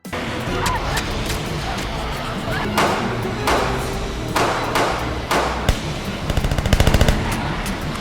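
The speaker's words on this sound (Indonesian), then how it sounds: "langsung menembak para zombie untuk menyelamatkan Allison" Gunfire from zombie-film action in COVID-21: a steady dense din broken by loud sharp shots around three, three and a half, four and five and a half seconds, then a rapid automatic burst near the end.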